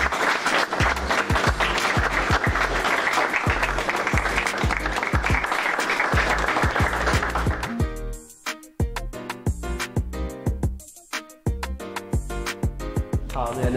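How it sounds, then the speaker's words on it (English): Applause at a high school farewell, heard loud and continuous alongside a steady beat of music that takes over toward the end as the clapping thins. "Clap."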